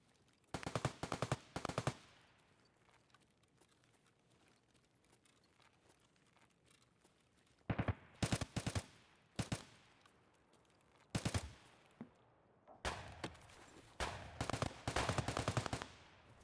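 Automatic gunfire in the video game Escape from Tarkov comes in several sharp, loud bursts of rapid shots, separated by quieter gaps.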